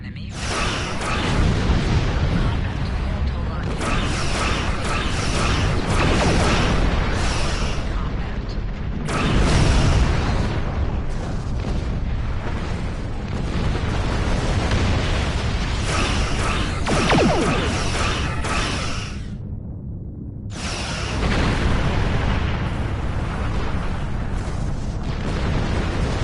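Torpedo explosions in space combat in Star Trek Online, a long, dense stretch of loud booming blasts and crashing rumble with a few brief lulls between waves.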